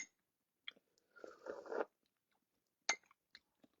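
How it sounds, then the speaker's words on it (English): Someone eats lemony lentil soup topped with sprouts: a close, quiet slurp and chewing sounds, followed by a few soft mouth and spoon clicks in an otherwise silent room. "Let's give this lemony lentil soup a slurp, shall we?"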